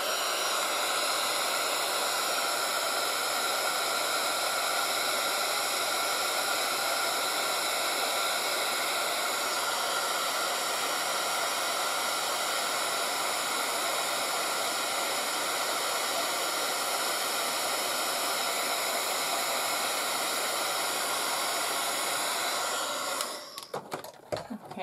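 A hair dryer runs continuously, close and loud, drying watercolor paint on a stamped postcard. Its steady whooshing rush lasts over twenty seconds before sputtering and cutting out near the end.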